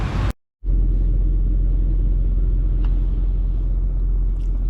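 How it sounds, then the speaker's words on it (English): A truck engine rumbles low and steady up close after a brief cut at the start. "Let's move the truck."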